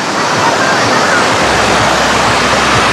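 Sea waves washing onto the beach at Anapa in the morning, a loud, continuous roar of surf close by, with breaking water and wind noise filling the whole scene.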